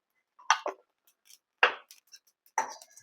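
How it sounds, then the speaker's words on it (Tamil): A few sharp, scattered crackles and light pops of poppy seeds dry roasting, close and isolated, with near silence between them. "இதுவும் வெடிக்கிற சத்தம் கேட்குது பாருங்க"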